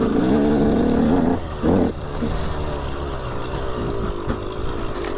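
A KTM 125 SX two-stroke motocross bike revs hard close by, its buzzing engine note rising and dipping as the throttle opens and closes while riding.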